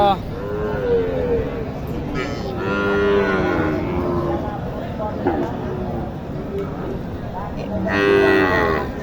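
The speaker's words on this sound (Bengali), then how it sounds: "সাইওয়াল গরুটি দেখেন" Sahiwal cattle mooing at a busy cattle market, several long, loud, close lowing calls rising over a constant crowd murmur and people talking nearby.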